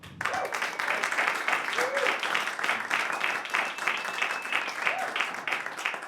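Audience at a live stand-up comedy show applauding for comedian Andrew Carroll, steady clapping from a modest crowd at moderate distance, with a few brief vocal sounds mixed in.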